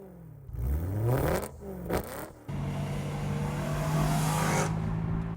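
A 2008 BMW M3 coupe's V8 revs up and falls back in loud, close sweeps, then settles into a steady, strong drone.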